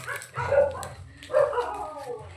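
Dogs barking at a home, two short, fairly close bursts about a second apart with a faint low hum underneath.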